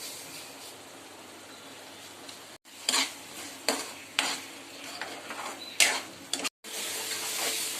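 Ground masala paste sautéing in oil for a raw banana curry, with a steady low sizzle broken by several sharp scraping stirs of a spoon against the pan, close and fairly quiet.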